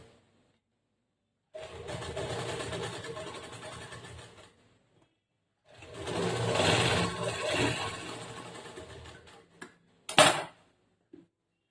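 An electric sewing machine runs a second line of stitching over an existing seam on a princess-cut blouse, in two steady whirring runs of about three seconds each, with a short clack near the end.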